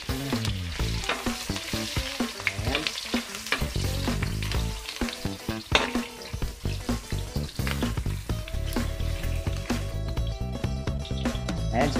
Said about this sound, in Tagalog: dahil mainit lang ating mantika, magigisa na tayo. Unahin lang natin ang ating luya